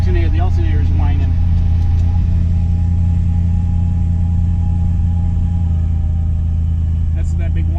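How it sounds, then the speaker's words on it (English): A vintage car engine idling with a steady low rumble, while its alternator whines as a constant high tone above it; someone speaks near the start and again near the end. "The alternator is whining."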